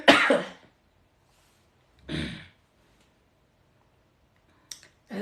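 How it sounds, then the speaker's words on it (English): A single person coughs three times in a quiet room: a sharp, loud cough at the start, a second about two seconds later, then a quick double cough near the end. "I hope I don't have a coughing spell."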